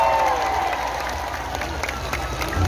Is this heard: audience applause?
yes